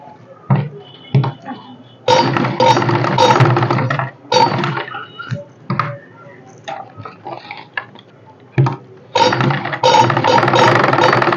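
Sewing machine stitching elastic into a pant waistband, running in several loud bursts of rapid mechanical clatter separated by short pauses and handling noise.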